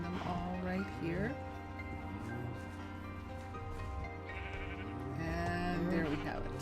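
Several sheep in modded Minecraft bleat in short wavering calls, one near the start and more toward the end, while someone talks steadily over them.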